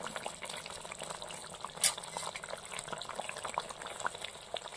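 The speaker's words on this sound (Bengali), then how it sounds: "এবার আর কিছুক্ষণ ফুটিয়ে নেব" A spinach and prawn curry simmering in a pot, bubbling steadily up close with small irregular pops and one sharper splutter, with no talking.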